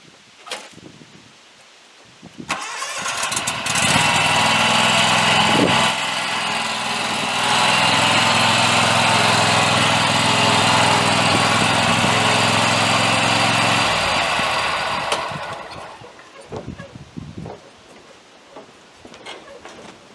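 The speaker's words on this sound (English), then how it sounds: "So I just got to move this mower to the back of the trailer" A riding lawn mower engine runs loudly and steadily as it is driven onto a trailer, rising from a low idle to a sustained close drone before easing back down, with no talking.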